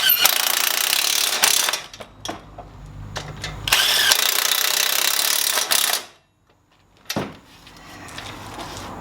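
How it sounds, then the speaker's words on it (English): An impact wrench with a wobble extension runs on a Saab 9-5 front strut, giving several loud, rattling hammering bursts of a second or two separated by short pauses, with one brief final burst. "Impact wobble just to get in there."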